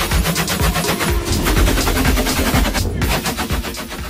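An FN Herstal Evolys light machine gun fires sustained bursts of rapid, loud shots, the repeated reports close and sharp with little pause between them.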